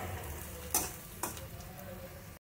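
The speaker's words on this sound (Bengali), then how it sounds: "বাঙালি রান্নাঘরে সামান্য চিনি দিয়ে দিলাম, সামান্য এটা ভেজে নেব।" Sugar fries quietly in oil with chopped onion in a pan in a Bengali kitchen, a soft, low sizzle broken by two sharp utensil clinks before it cuts off.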